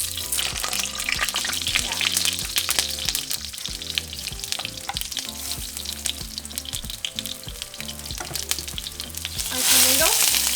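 Six garlic cloves and two onions fry in a hot pot for mole de olla, giving a loud, steady sizzle that swells near the end, with music playing throughout.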